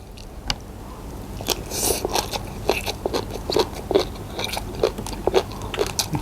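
Crunchy spicy green papaya salad being bitten and chewed, a run of sharp crisp crunches and wet chewing sounds repeating close to the mic in a quiet setting.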